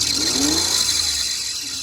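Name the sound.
Firebird car engine running and revving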